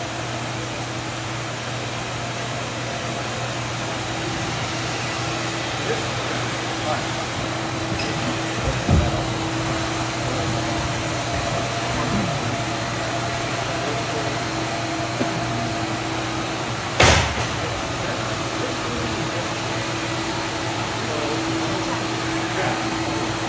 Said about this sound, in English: this is the second time we are running this machine on this rug